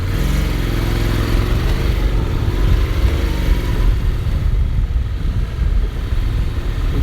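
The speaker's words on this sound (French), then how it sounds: "le son est assez sympa je trouve sur ce Forza, on a un son de moto" A Honda Forza 750 scooter's engine pulls hard under acceleration, a loud, steady, deep motor drone that sounds more like a motorcycle than a scooter, with no talk over it.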